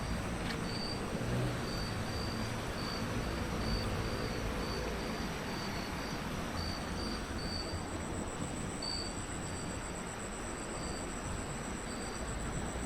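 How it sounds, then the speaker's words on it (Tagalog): Crickets chirping by a river: a steady high-pitched pulsing trill runs throughout over a dense, constant wash of rushing water and outdoor ambience, with no voices. "Kuliglig no?"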